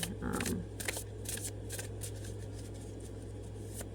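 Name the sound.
shuffling tarot cards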